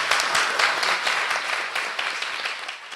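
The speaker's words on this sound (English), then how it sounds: "If you give a round of applause." Conference attendees give a round of applause at the close of an agroecology session, a short, steady burst of many hands clapping that tapers slightly toward the end.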